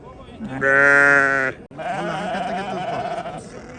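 Sheep and lambs bleat nearby at the Chiroqchi livestock market: one long, loud, steady bleat, then a second wavering, quavering bleat that trails on over the pen noise.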